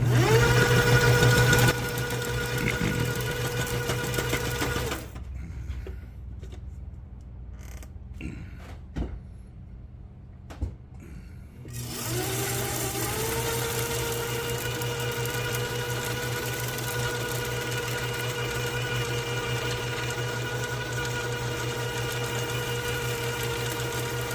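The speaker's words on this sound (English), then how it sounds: "this can be a pretty cool test here of spooling up their braid" Braided fishing line spooling fast onto a reel on a line winder, a steady mechanical whir and hum running throughout, briefly dropping away near the middle before resuming at a constant pitch.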